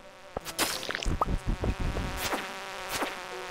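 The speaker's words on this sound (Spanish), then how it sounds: "Son una pesadilla las moscas estas" Flies buzz loudly and close in the Stardew Valley video game, several wavering insect drones rising and fading in quick bursts amid clicks and game effects, with no voices.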